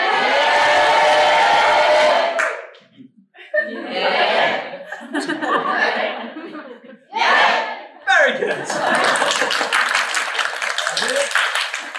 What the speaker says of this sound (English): this time I will say cheer, and you will all go, yay!